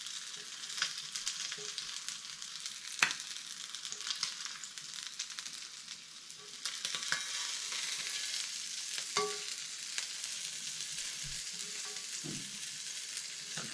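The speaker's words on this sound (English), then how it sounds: "Sizzling and yummy." Steady, close sizzling of fish frying in a pan, a continuous crackling hiss with occasional small pops and stirring scrapes.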